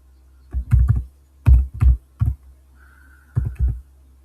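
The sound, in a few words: typing fast on a computer keyboard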